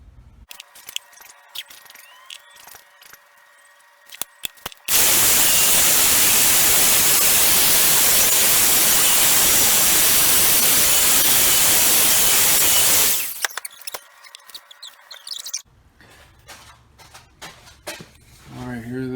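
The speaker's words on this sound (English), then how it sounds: "I'm going to cut a groove right down the middle." A groove being cut down the middle of a piece for an N scale model layout shadow box: a loud, steady, hissing roar of about eight seconds, framed by quieter clicks and handling noises before and after.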